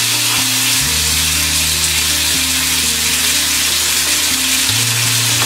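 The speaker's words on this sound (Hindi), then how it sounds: "तेल गरम होने के बाद हम पापलेट को तवे पर रख देंगे" A pomfret lies in hot oil on a flat tawa over low heat, sending out a loud, continuous sizzle beneath a steady droning mechanical hum that shifts pitch a few times.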